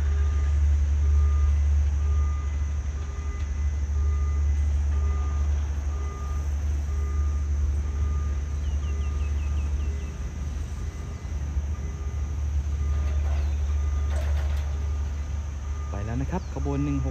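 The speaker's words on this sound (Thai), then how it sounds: "ใช้เป็นรถจักรอัลสตอมหมายเลข4118จากโรงรถจักรธนบุรีนะครับ" Alsthom diesel locomotive number 4118 of the Thai railway idling with a steady low engine drone, close and loud, with faint insect chirps and beeps in the background.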